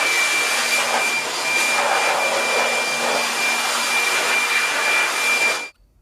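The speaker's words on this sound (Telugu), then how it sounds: "ఫస్ట్ బ్లోవర్ ఎందుకు కొడతాం అంటే ఈ సైడ్ ఉన్న డస్ట్ ఉంటుందా" A handheld air blower roars steadily while blasting dust off a split air conditioner unit during servicing, a loud continuous rush that cuts off abruptly near the end.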